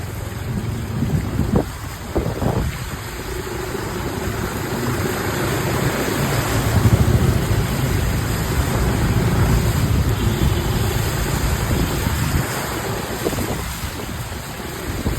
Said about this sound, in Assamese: বৰষুণ ৰখাৰ কোনো নামেই নাই লোৱা।